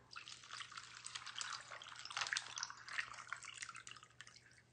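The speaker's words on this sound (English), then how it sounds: "then I'm gonna add some water" Filtered water being poured into a drink cup holding ice, a faint continuous trickling and splashing lasting several seconds, close and quiet, with no talking.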